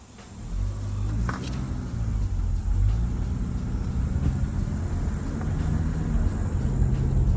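A car drives up toward a parking lot with a low engine and road rumble heard from inside the car, holding a steady, moderately loud level throughout with no speech.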